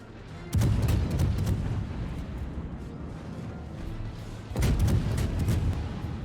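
Heavy artillery fire in a naval warfare video game, two deep booming salvos a few seconds apart, each with a sharp onset and a long rumbling decay.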